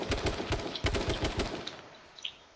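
Rapid automatic gunfire from the video game H1Z1 King of the Kill, two close bursts of quick rattling shots that fade into a quieter tail.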